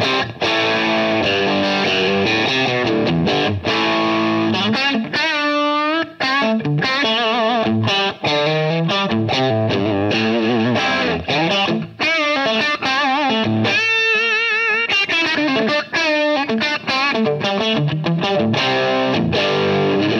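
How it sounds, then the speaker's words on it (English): Electric guitar through a power amp turned halfway up, chords and single notes carrying a gritty, saturated distortion, loud and continuous with no talking. "it doesn't really get louder so much as it starts to just get more just gritty"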